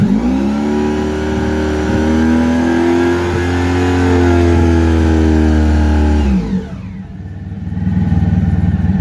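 A Honda ST1100 motorcycle engine idles at about 850 RPM, making a loud, close, steady droning hum that briefly dips and changes character before settling back into a rough idle.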